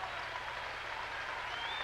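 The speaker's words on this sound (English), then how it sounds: "you'll hear a really warm round of applause" Warm applause from a basketball crowd at a South Carolina versus Florida State game, steady and fairly distant, filling the whole stretch without a break.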